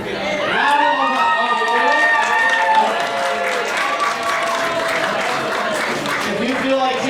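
A comedy roast battle crowd in Denver roars with whoops, yells and cheering voices over a wash of clapping, loud and sustained throughout.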